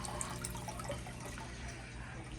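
Steady broadband rush of water from a new pump refilling an aquarium tank, flowing continuously at close range with no pauses and a gentle splashing texture throughout.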